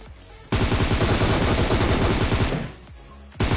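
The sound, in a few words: heavy gunfire from behind in video game PUBG Mobile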